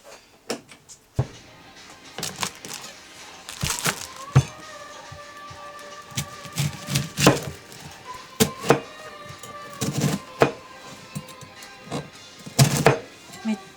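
A sharp kitchen knife chopping food on a cutting board, with scattered loud thunks and knocks at irregular intervals, some close and sharp, others softer, amid light handling noise.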